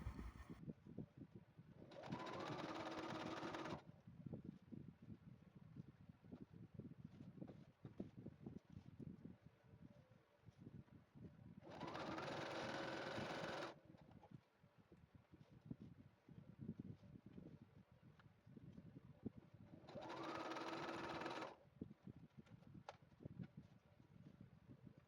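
A sewing machine stitches Ankara fabric scrunchies in three separate short runs of steady whirring, each a few seconds long with quiet pauses between, heard faintly and alone.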